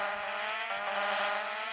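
A fast Honda car in a Minecraft driving mod roars at a steady high pitch, a loud continuous synthetic engine drone with no talking over it.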